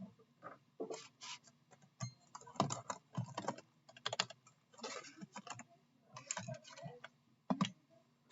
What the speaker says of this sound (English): Having the MT3 keycaps, oh my goodness, the sound.